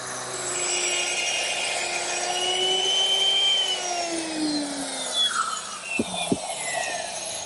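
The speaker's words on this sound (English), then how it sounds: "Needs a little bit of sanding." Continuous abrasive rubbing of sandpaper on a pine clock's face frame, smooth and steady at close range, ending with a couple of sharp knocks.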